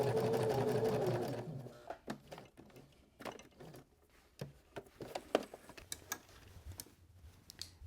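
Sewing machine running in a steady loud burst while stitching just past the original seam on an upcycled shirt, then stopping; scattered small clicks and handling taps follow at lower level.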